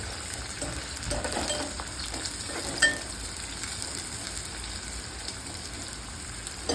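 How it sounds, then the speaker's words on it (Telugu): Onions frying in a pan for chicken curry, a steady close sizzle with occasional stirring clinks and no voices. "ఆనియన్స్ కొంచెం బ్రౌన్ కలర్ వచ్చే వరకు వేయించాలి."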